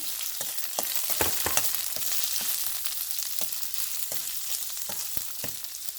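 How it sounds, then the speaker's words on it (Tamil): Curry leaves, onion and green chillies sauté in hot oil, a loud, close, steady sizzle broken by sharp crackles and stirring clicks, with no one speaking. "பச்சை மிளகாய் போடுறேன் பிறகு எல்லாம் நல்லா வதங்கட்டும்"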